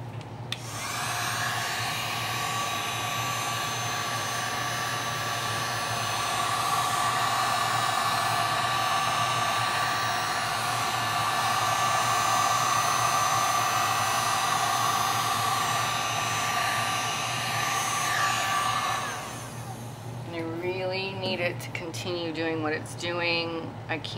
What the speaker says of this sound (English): So I'm gonna get the heat gun